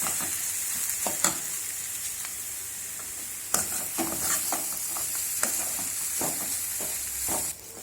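Shark puttu mixture frying in a hot pan, stirred and scraped with a utensil; a dense, even sizzle punctuated by sharp clicks and scrapes, close and fairly loud throughout.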